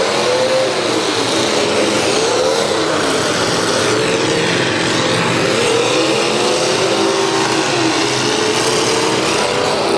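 Demolition derby cars at the 2022 Ashland County Fair, including the damaged number 87 car, roar loudly and steadily, engines revving and droning together close by with no distinct crash impacts standing out.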